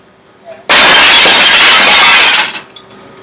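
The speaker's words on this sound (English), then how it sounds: "If you want to break glass, should you use a fucking brick?" A brick smashes a pane of glass in one loud, sudden shattering burst that rings on for nearly two seconds, then falls away to a few faint tinkling fragments.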